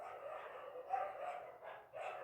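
Dogs give a muffled, continuous stretch of barking and yipping that sounds somewhat distant and blends into a steady noisy background, with no talk.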